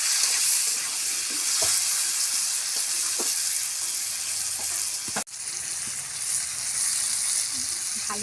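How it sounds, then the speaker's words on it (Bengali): Green tomatoes frying in a pan hiss in a steady, close sizzle, with occasional stirring taps and one brief sharp knock partway through. "ভালো করে টমেটোটা ভেজে নেব"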